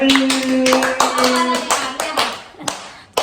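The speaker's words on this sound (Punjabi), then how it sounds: "ਵੈਰੀ ਗੁੱਡ ਤਾੜੀਆਂ ਮਾਰੋ" Close, loud hand claps ring out in an irregular burst, some sharp and isolated, mixed with brief bits of talk, as a group is prompted to applaud during a shoot.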